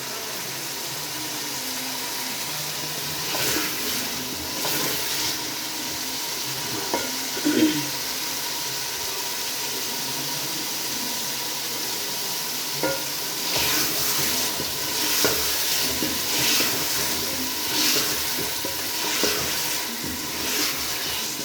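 Meat frying in masala for kaddu gosht, a continuous close sizzle broken by repeated scraping stirs and occasional clinks of a spoon against the pot, with no talking.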